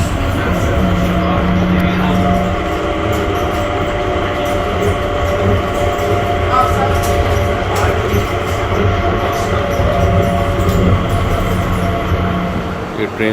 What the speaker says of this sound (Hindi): ट्रेन से हम बाहर आए हैं।